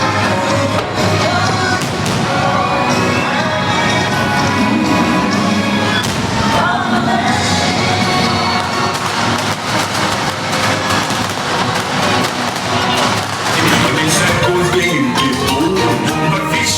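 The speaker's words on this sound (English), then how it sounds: "But for now, let's catch you into the fireworks." Fireworks show at the Magic Kingdom, with dense crackling bursts and booms layered under loud music and crowd noise throughout, the pops continuous rather than isolated.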